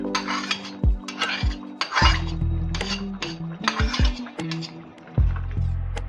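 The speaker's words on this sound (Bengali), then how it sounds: "ভালো করে নাড়িয়ে নেব।" A spoon stirs matar paneer with tomato ketchup in a pan at home, giving a string of sharp metallic clinks and scrapes in an irregular rhythm over a low, steady hum, close up with no talking.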